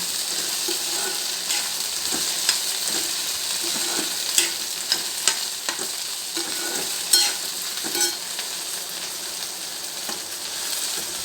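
Sliced okra dry-roasts in a pan with a constant close sizzle, broken by scattered scrapes and clicks as a utensil stirs it, no voices.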